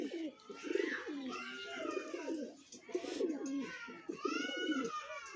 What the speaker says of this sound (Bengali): এতে অসংখ্য কাবুতার আছে